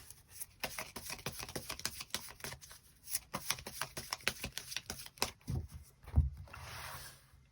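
Tarot cards being shuffled by hand make a quick run of crisp, close riffling clicks and slaps, then a few softer handling sounds. No one speaks.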